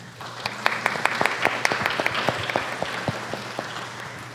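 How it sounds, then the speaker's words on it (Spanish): Audience applause for panel speakers at a conference panel on foreign trade single windows and restricted goods, a moderate burst of clapping with distinct individual claps over a low hum, rising then tapering off. "a Juliana Maya y a Mario Gárate, por lo cual les pido un fuerte aplauso, por favor"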